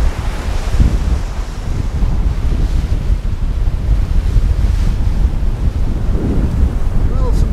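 Storm-force wind of about 40 knots at sea aboard a sailboat, a loud continuous roar with buffeting against the microphone and waves rushing beneath, unbroken throughout.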